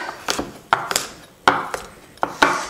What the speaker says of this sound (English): We're going to put in 50 grams of cranberries. I'm going to very roughly chop these.